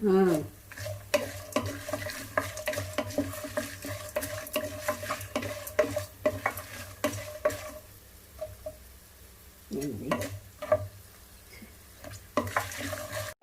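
Green chillies fry in hot oil in a pan while a utensil stirs and scrapes them in irregular knocks, close and steady sizzling throughout, no talk over it.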